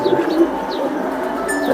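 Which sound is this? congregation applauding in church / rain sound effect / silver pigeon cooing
silver pigeon cooing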